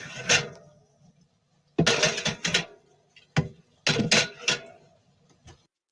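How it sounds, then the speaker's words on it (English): Metal cans clink and knock together in several quick clusters separated by pauses, close by, as they are stacked on a fridge shelf. "Stashing up cans in a shelf."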